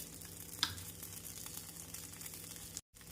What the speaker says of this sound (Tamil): நம் திணை அரிசி தோசைக்கு எண்ணெய் ஊற்றி சுட்டால் தான் டேஸ்டியாக இருக்கும்